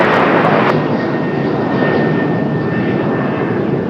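A loud, close aircraft roars steadily on takeoff at Raleigh Durham airport, a broad sustained engine rumble with a faint whine running through it and no speech.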